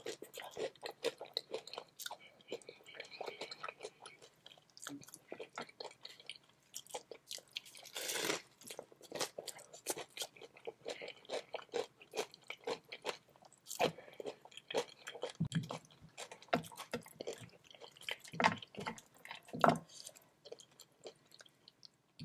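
Someone bites and chews cheesy, spicy fire fried chicken close to the microphone, producing a steady stream of crisp crunches and wet chewing sounds with brief pauses and no talking.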